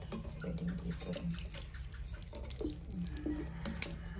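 A weak stream of water trickles from a faucet in a provincial home, a soft, steady splashing and dripping heard close and alone.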